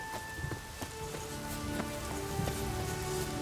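Heavy rain pours in The Witcher 3 game world, a dense, continuous patter with scattered sharper drops, moderately quiet and steady with no voices.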